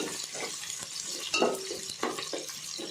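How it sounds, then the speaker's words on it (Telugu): Onions frying in a pan with green chilies for Nellore-style fish curry, a crackling sizzle broken by a couple of louder scraping stirs, close and busy, with no voices. "ఎర్రగడ్డ వేగింది"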